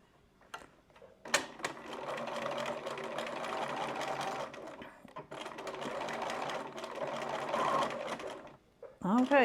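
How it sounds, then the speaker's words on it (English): A sewing machine stitches a loop onto a fabric grocery bag, running in two long, steady whirring bursts separated by a brief stop, close and moderately loud. "we're just going to run another stitch along to get your loop facing"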